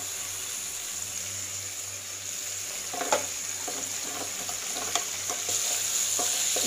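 Chicken pieces for restaurant-style chicken 65, with food colour added, are mixed in a pan. A steady sizzle runs throughout, with scraping clacks from the spoon growing more frequent in the second half.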